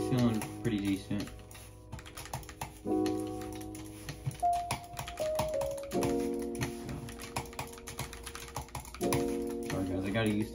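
Rapid, irregular clatter of computer keyboard keys during a Fortnite match on PS5, close and persistent, mixed with game music tones and sound effects.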